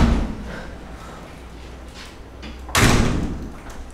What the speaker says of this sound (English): I close the door just a second.